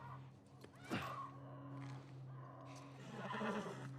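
A horse neighs and whinnies nervously in The Last of Us Part I, a sharp near cry followed by snorting and agitated sounds over a low steady game ambience hum.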